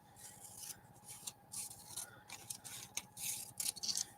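Scissors snipping across the top of a magazine page, a quiet run of crisp paper cuts coming in uneven bursts, close by, with no talking.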